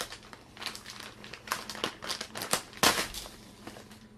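A plastic bag of Epsom salt is cut open, giving close, loud crinkling and crackling plastic in irregular bursts, with a sharper rustle near the end.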